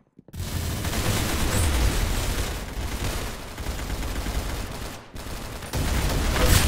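Sustained gunfire from the video game Arsenal, dense overlapping shots and bursts filling the whole stretch with only a brief drop near the end, loud and close with no talking.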